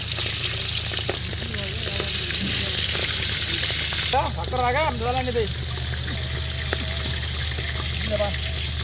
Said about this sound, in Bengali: মাছ ভাজা হচ্ছে এখন